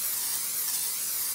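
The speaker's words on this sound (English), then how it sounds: "I use an olive oil spray." Olive oil cooking spray hisses from the can in one continuous close burst onto a bowl for pizza dough, steady for over a second before cutting off sharply.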